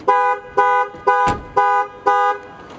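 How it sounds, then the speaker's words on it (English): A Land Rover alarm sounds after the door is opened, five loud, evenly spaced electronic honking tones close by, with a short thud between the third and fourth. "if you open it, the alarm goes off like this"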